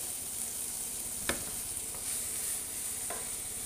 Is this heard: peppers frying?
yes